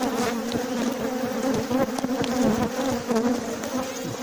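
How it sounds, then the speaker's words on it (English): Dense, continuous buzzing of many bees swarming close around an open beehive during an inspection, steady and loud with no talk. "I can see bees creeping up my leg and stinging me, which is great."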